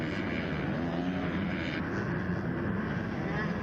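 A pack of Husqvarna 250cc motocross bikes races at the Loretta Lynn's amateur nationals, their engines blending into a loud, continuous, droning roar that swells slightly partway through.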